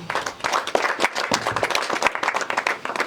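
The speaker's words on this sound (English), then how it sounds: "I want you to give a big applause for Dr. Hilary." An audience at a home visit gathering breaks into lively applause, with many hands clapping in a dense, uneven patter that keeps going for a few seconds.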